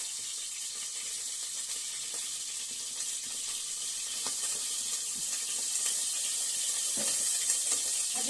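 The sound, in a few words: water being poured into a cooking tray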